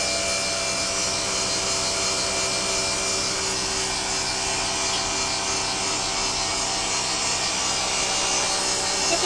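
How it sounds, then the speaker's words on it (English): A vacuum pump and oil pump running together in REXON oil filter equipment with regeneration produce a steady, dense mechanical hum with a bright whirring hiss and constant tonal drone, unbroken throughout. "Here we can see vacuum pump, roof pump. They are both working."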